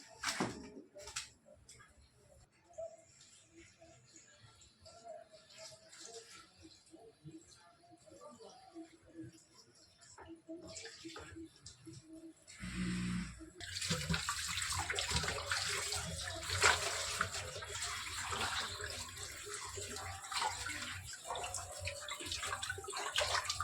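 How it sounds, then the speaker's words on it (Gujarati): Bhopatri leafy greens get rinsed in water: quiet handling and splashing at first, then a steady rush of running water from a tap, close and continuous through the second half. "આમાં માટી સોટેલી હોય એટલે આપણે ધોવી પડશે તો આપણે પહેલાં ધોઈ નાખીએ આને"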